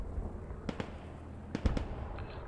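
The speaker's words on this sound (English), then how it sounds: "here's some artillery coming in, probably right on the objective" Artillery shells landing in a PlanetSide match, a few sharp distant booms in two quick pairs, fairly faint over quiet battlefield ambience.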